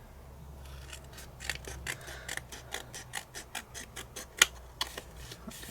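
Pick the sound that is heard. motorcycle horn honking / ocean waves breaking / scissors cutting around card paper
scissors cutting around card paper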